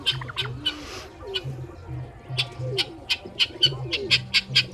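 Racing pigeons, a newly paired set on their first day of flying, coo in low repeated phrases while sharp, bright clapping bursts, likely wingbeats, grow quicker and more regular toward the end, all fairly close with no voices.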